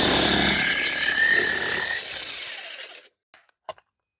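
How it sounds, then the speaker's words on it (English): A Vevor jackhammer runs with a loud, dense, rapid hammering that fades out after about three seconds, followed by a couple of brief clunks. "Get your own super awesome jackhammer."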